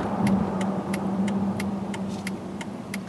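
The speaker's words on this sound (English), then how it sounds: "that's turbo boost for you" Inside a 2013 Mercedes S550 with Active Body Control, the engine pulls under turbo boost as a low, steady rumble, with a faint, regular ticking repeating over it.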